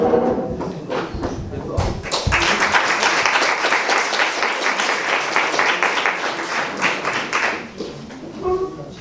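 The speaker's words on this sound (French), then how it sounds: "Vous avez déjà applaudi, vous m'avez pris de vitesse" Audience applause at a French-language talk on religious extremism in Morocco, a dense wash of clapping that swells early and holds steady for several seconds before thinning, with a voice murmuring underneath.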